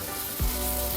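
Garlic sizzles in a hot pan while cooking, a steady hiss throughout with a brief low thump partway through, no voices.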